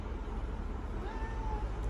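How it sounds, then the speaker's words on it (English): A house cat meows once faintly indoors, a short rising call nearly buried beneath steady low background rumble. "That's my cat."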